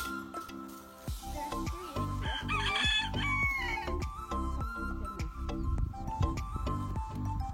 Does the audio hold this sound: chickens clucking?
yes